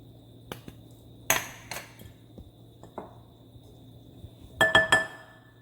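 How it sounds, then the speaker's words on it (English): Eggs cracked for a beef lasagna, sharp close knocks and clinks against a hard edge, several taps spread out with a quick cluster near the end, in a quiet kitchen. "I'm going to crack my eggs."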